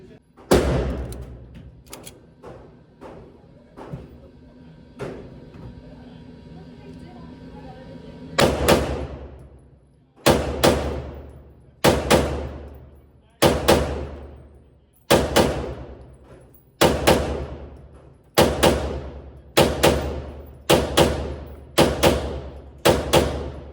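A pistol fires at the range with a string of loud, close shots, roughly a dozen sharp reports spaced a second or two apart, each ringing out with a decaying echo after a quieter stretch at the start.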